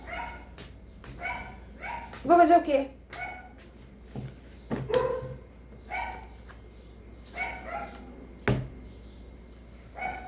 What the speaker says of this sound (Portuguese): mas às vezes vai ter um cachorro da vizinha